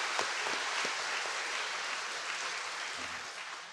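A church congregation at a Sunday service claps for a member's birthday, a soft wash of many hands applauding together, steady and even, with a few louder claps near the start before it gradually tapers.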